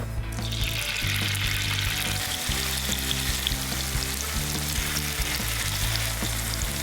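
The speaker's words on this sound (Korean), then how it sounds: "이제 두부를 부쳐줄 거예요. 밝은 팬에 기름을 조금 넉넉하게 두르고" Tofu slices pan-frying in a generous layer of oil in a bright pan, a loud continuous sizzle and crackle with a low hum underneath, steady and close, no voices.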